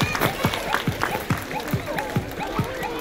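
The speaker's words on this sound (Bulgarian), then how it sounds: "Аплодисменти за всички вас още веднъж." Audience at a children's kindergarten talent concert applauds the young performers, a busy wash of clapping mixed with excited shouts and chatter from the crowd.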